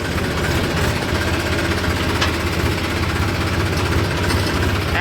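A vehicle engine runs steadily at a low idle near a farm home in the evening as it is shifted into first gear, giving a continuous rumbling drone with faint knocking and no talk.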